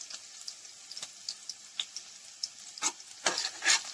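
Chopped onions and curry leaves fry quietly in a home kitchen pan, with a soft sizzle broken by intermittent stirring scrapes and louder bursts near the end.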